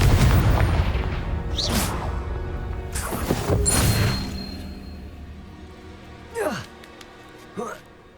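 Booming spell blasts from the Confringo curse in Hogwarts Legacy on PS5, several heavy crashing explosions in the first four seconds followed by two sharper whooshing bursts, mixed with game sounds and occasional voices.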